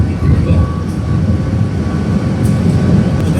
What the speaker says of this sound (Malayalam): നമ്മുടെ വിമാനം പൊക്കോണ്ടിരിക്കുകയാണ്